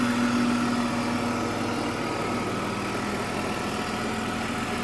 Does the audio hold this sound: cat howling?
no